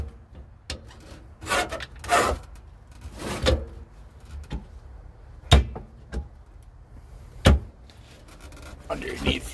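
Wooden drawers slide and knock shut inside a 1986 Palomino pop-up camper. Several scattered scraping rubs and sharp clacks sound up close against a quiet room.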